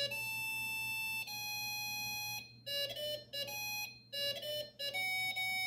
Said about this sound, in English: And it's actually a Chopin waltz that it's playing.